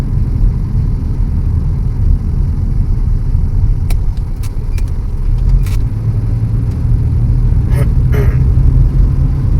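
Steady loud road rumble from inside a Honda Civic on a highway, with a truck passing in the opposite direction amid continuous tyre and engine noise and a few brief clicks.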